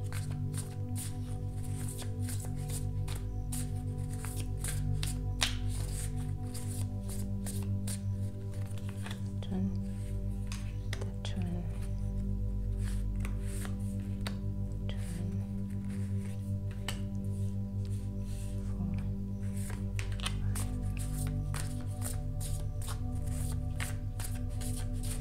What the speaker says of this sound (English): I just want to shuffle all the cards now so that I don't have to shuffle in between